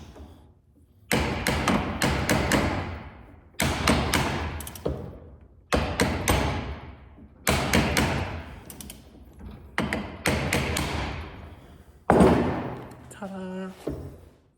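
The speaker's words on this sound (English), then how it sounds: "if you give it just a little tap anywhere on that casting or on the clamp itself, it'll usually free it up" A hammer taps the casting of a double cardan driveshaft yoke to free a bearing cap, giving about six loud, close bursts of sharp knocks, each a quick cluster of hits, ending in a scraping, ringing pop as the cap comes loose.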